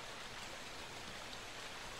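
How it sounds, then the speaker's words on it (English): Steady rushing water streams on without pause in the PS1 Resident Evil game, a dense, even wash of flowing noise that stays at the same moderate level throughout, with no voices over it. "The water is running down the opposite side."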